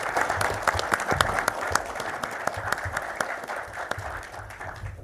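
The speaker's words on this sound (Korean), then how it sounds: "뜨거운 환영의 박수를 보내주시기 바랍니다" A room full of people applauds to welcome the ruling-party leader Han Dong-hoon as guest of the Kwanhun forum debate: dense, steady clapping from a sizable audience throughout, with faint voices underneath.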